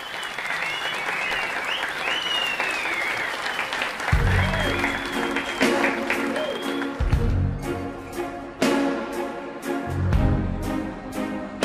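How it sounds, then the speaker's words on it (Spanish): An audience gives loud, sustained applause and cheering as a dancer is introduced on stage, while deep pulsing music beats in and out beneath the clapping. "Reciban con un fuerte aplauso a la reina del erotismo."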